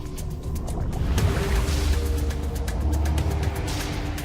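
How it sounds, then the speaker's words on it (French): A boat motor drones steadily on the water of the South Pacific near the Solomon Islands, a close, even rumble with a faint engine whine and no talking. "Je mets le moteur en marche."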